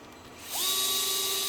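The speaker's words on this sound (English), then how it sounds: "Dewalt power driver with locking clutch." A Dewalt power driver with a locking clutch spins up sharply to a steady high whine while driving a screw into a Yokomo YD-2 RC car chassis bulkhead, one continuous burst heard up close.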